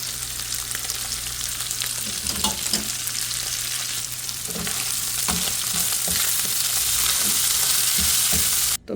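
Small fish fry in a pan with a continuous, steady sizzle and crackle, close and even throughout, with occasional stirring clinks and a steady low hum underneath.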